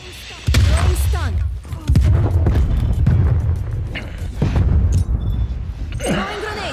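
A stun grenade thrown and bursting in a video game, loud booming blasts amid ongoing combat noise, with a few faint voices in the mix.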